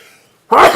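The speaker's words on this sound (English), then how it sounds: "I'm gonna sneeze, hold on." A sneeze bursts out suddenly at a city council meeting, one loud, sharp, close explosive blast after a near-silent pause.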